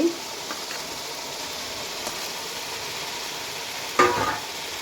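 Hilsa fish pieces frying in a pan give a steady, soft sizzle throughout, with a brief sharper burst near the end as more fish hits the hot oil.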